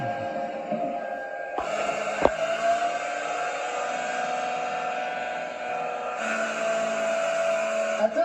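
A Toyota 2GR-FE 3.5L V6 engine held at about 2,500 rpm makes a steady, loud, close droning hum with a sharp click early on, with no voices.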